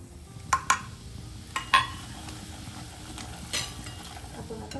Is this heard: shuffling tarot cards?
no